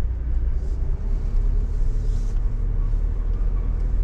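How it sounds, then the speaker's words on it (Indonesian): Inside the domestic terminal car park at Soekarno-Hatta Airport, Terminal 3, a loud continuous low rumble of vehicle engines and traffic fills the space, steady throughout with a brief hiss partway through. "Jadi memang inilah suasana parkir di terminal domestik."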